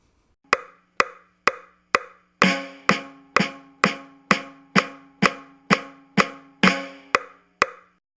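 Drums played in the pocket at 120 bpm, a steady stream of crisp, evenly spaced hits with sharp attacks and short decays, sparse clicks at first, then fuller, ringing strokes, close and clear with no voices.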